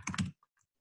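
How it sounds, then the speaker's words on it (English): A quick burst of keystrokes on a computer keyboard ends with the enter key, followed by a couple of faint, isolated clicks in an otherwise quiet room. "Just hit enter on my keyboard to perform the search there"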